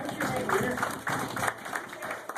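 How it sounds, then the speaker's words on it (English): Audience applause at a live magic show as a woman is invited up from the crowd, a broad wash of clapping running steadily under a voice talking over it. "Give her a big round of applause."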